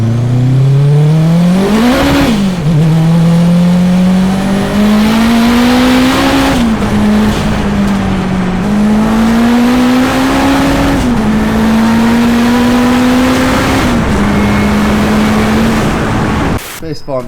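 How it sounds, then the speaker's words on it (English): A 700 hp AWD-swapped Honda Civic with a turbocharged K20 engine accelerates hard with all four wheels spinning, its loud engine note climbing through several gear changes over a long, close run. "Four-wheel wheel spin."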